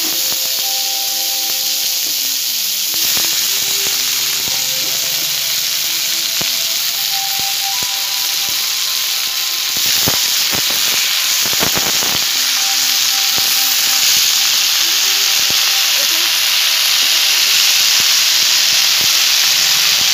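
Kulekhara greens dropped into a hot pan for a vegetarian eggplant curry give off a steady, loud hissing sizzle that holds for the whole stretch with no voices.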